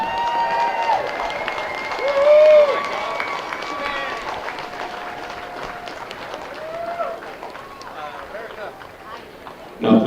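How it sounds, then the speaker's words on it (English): Applause for veterans from a stadium crowd at a high school varsity football game, clapping and some cheering underneath a public-address announcer who talks through most of it, fading toward the end. "let's give these men and women a great round of applause."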